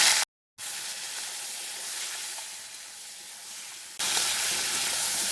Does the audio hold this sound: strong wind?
no